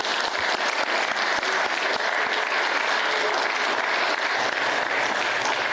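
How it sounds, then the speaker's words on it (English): Audience at an information assurance forum session gives a round of applause, dense and steady clapping filling the room throughout. "we want to give a big round of applause to our four folks"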